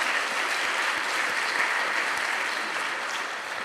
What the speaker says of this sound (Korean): 우리 가운데 임재하신 하나님 앞에 감사의 박수를 돌립니다.